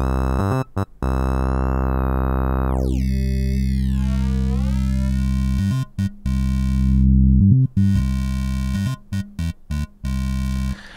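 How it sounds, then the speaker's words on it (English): A bright, harmonically rich synth tone runs through a Polyverse Supermodel filter. Its overtones sweep down steeply, then wobble back up, and short choppy gated stutters break in near the start and end. "let's add something like the Polyverse Supermodel filter"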